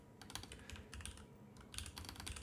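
Quick, fairly soft keystrokes patter in bursts on a computer keyboard as CSS code is typed during a coding lesson, with no talking.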